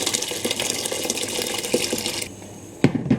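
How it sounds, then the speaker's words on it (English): Hot water runs steadily into a very tall cooking pan for about two seconds, a loud continuous gush, then the flow stops and a few clunks and knocks follow. "I'm using a very tall pan, so I'm filling it up with hot water halfway"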